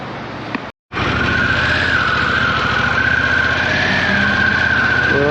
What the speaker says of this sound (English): We're off and running on this big bike.